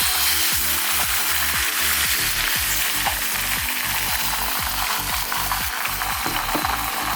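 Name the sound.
beaten egg frying in pan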